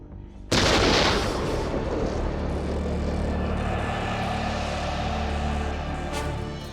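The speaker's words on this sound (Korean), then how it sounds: "총성 같은 굉음이 울려 퍼진 겁니다" A sudden loud gunshot-like blast bursts out after a brief quiet on a mountainside, followed by a long rumbling echo that slowly fades.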